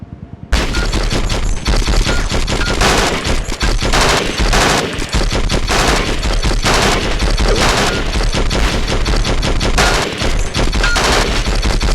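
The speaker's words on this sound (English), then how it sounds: "I want you to order your men to open fire" Dense, sustained automatic gunfire from a squad of soldiers shooting at training targets in Conflict: Desert Storm 2, loud, overlapping bursts and shots continuing steadily after a brief quiet start.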